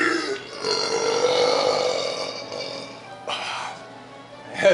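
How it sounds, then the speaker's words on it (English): A long, loud burp from a player drinking during a Legend of Zelda: Majora's Mask game session rumbles for several seconds, then a second, shorter belch follows near the end. "The Goron was burping."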